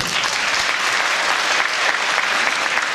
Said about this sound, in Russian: заранее аплодисменты нашим актерам.